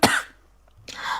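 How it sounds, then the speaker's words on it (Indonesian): Two short coughs from one person, a sharp, strong burst at the start and a second, softer one just under a second later, heard up close with no speech. "Kok batuk ya?"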